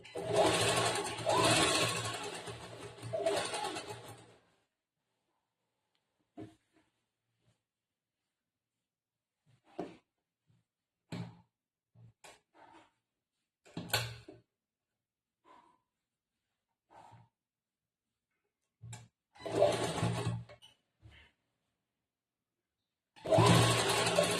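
A sewing machine stitches an A-line kurta in bursts: a long loud run at the start, then scattered short stitches and quiet pauses, and two more loud runs near the end, with no talking.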